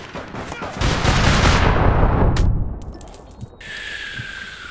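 Gunfire in the online shooter APB Reloaded: a dense burst of loud, close shots roaring for about two seconds, then fading into a few scattered pops and a lingering electronic whine.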